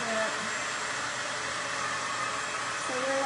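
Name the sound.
hair dryer blowing on low setting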